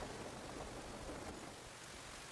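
Heavy rain pours down steadily in a video game, a dense, even hiss that fills the whole stretch with no voices and no breaks.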